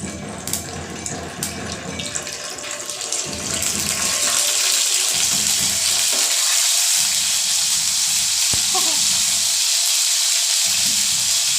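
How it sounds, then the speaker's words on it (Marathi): Ginger garlic paste hits hot oil and erupts into a loud, continuous hissing sizzle a few seconds in, following quieter kitchen sounds, close and steady without speech. "त्याच्यात मी आलं लसूणची पेस्ट टाकते"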